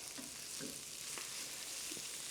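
Shrimp sear in a hot pan for New Orleans style BBQ shrimp, a dense, steady bright sizzle filling the clip with a few soft scrapes and taps of the pan underneath, close and constant.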